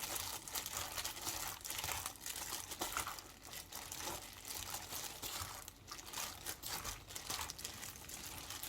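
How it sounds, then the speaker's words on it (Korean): Shredded Korean radish salad tossed by hand with fish sauce and salted shrimp, giving a steady, close wet crinkling and squelching that continues without pause. "새우젓 반수절 넣고 다시 한번 버무려 볼 건데요"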